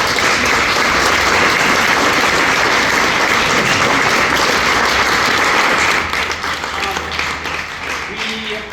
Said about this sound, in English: I want to give a round of applause to Jesus for that.